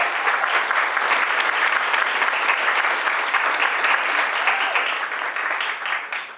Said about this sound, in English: Could we have another round of applause for those incredible students?